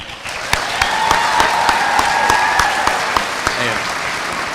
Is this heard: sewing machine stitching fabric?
no